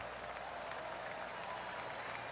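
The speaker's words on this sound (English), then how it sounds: "Oh, golf clap." Golf spectators give a faint, distant smattering of applause at an open tournament, a soft, even patter of clapping heard from afar throughout.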